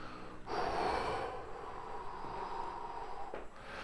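Deep breathing during gentle stretching exercises, one long audible inhale or exhale followed by steady, soft airflow, close and quiet with no talking.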